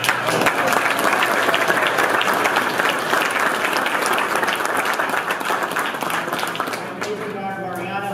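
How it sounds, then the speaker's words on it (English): A crowd breaks into sustained loud applause for the speaker's wife, dense clapping filling the room and easing slightly before a voice starts speaking near the end. "Let's give her a round of applause."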